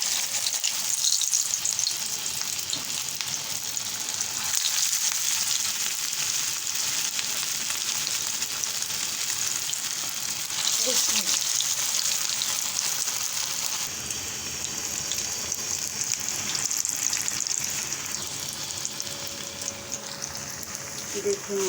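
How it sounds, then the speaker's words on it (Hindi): Potato and chicken shami tikki fry in hot ghee, a loud, continuous bright sizzle and crackle that runs unbroken for over twenty seconds, close to the microphone, with brief softer shifts as the patties settle. "घी गरम करके फिर मैं आपको शामी टिक्की अपनी आलू वाली में बना के दिखाती हूँ"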